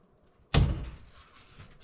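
A wooden door on an electrical panel, held by magnets, swings shut with a single sharp close thunk followed by a short fading rattle, heard alone in a quiet room.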